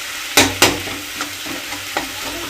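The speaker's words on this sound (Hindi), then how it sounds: "मैं डालूँ मिर्ची लहसुन और प्याज के फोरन दे दिए हैं" A tempering of chili, garlic and onion frying in a pan for a red amaranth and potato dish, with two sharp spoon strikes then softer stirring taps over a low, steady sizzle, close up.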